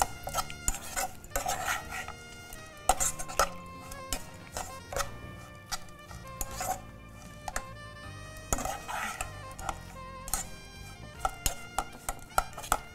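A spoon scrapes and clinks against a metal pan while a cooked mixture is stirred with lemon juice, giving a steady run of close, sharp metallic taps and rattles with no talking.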